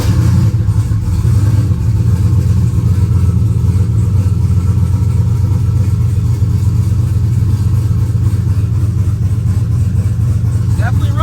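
A turbocharged LS2 Chevrolet Camaro engine runs loud and close, a steady low rumble throughout with no audible talk over it.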